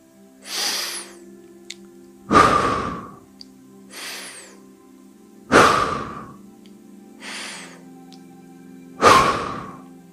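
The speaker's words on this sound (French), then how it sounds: "je vais prendre 3 respirations plus toniques" Three deep, forceful breaths during a relaxation and grounding exercise, each a long inhale followed by a stronger, louder exhale, evenly spaced and close, with a steady low hum underneath.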